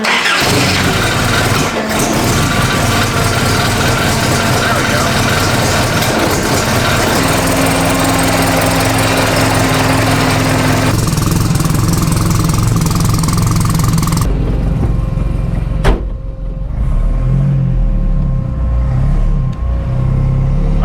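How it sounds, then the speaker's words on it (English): A rebuilt Toyota Hilux engine runs loud and close, a steady droning rumble that changes pitch partway through and continues to the end. "Let's drive this thing."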